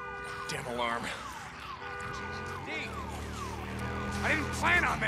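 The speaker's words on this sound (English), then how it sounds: "Damn alarm." A car alarm in the video game Days Gone wails with rising and falling siren-like sweeps, repeating throughout under someone talking over it.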